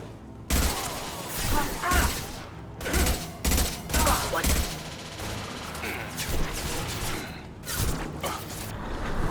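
Video game gunfire from Mass Effect 2, a combat firefight with repeated loud bursts of shots and impacts in clusters over a busy mix of effects, with voices calling out amid the shooting.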